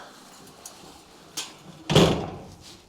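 Large metal doors on a farm shed in rural Portugal are pulled shut: a light clank, then a louder, close slam that rings and fades over a quiet background.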